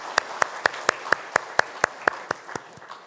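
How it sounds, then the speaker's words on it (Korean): Slow, steady rhythmic clapping in unison during a Korean church Sunday worship service, about a dozen evenly spaced claps in three seconds, moderately close and clear with no talk over it. "하나님 앞에 영광의 박수 올려드리겠습니다"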